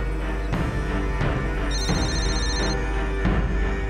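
A telephone rings on an outgoing call, with repeated electronic ringtone bursts at a steady rhythm, loud and close over a dense background music bed.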